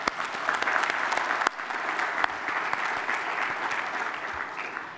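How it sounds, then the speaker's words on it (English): Sustained applause from a conference plenary audience in Cambodia, a dense patter of many hands with a few sharper claps standing out near the front. "Please join me in giving them a round of applause."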